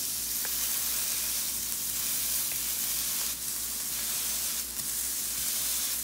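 Thin ground chuck burger patties with garlic and onion sizzle steadily on a hot griddle, a loud, even hiss throughout with faint scraping taps as they are flipped.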